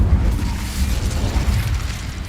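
An Incendio fire spell erupting in Hogwarts Legacy, a deep, rumbling whoosh-boom of flame that swells and sustains for a couple of seconds, loud and close with no voices over it.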